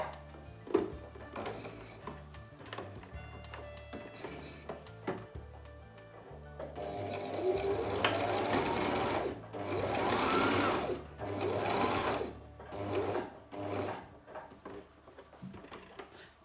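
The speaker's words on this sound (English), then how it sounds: "we're about to sew the mask together using a 1/2 inch seam allowance that we left on the pattern" A sewing machine stitches a reusable fabric face mask. It starts with short, stop-start bursts of stitching, then runs in longer steady whirring runs with mechanical ticks between them.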